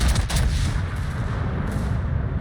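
Bots fire guns in a co-op video game match, heavy overlapping gunfire and booming blasts that rumble loud and continuous throughout.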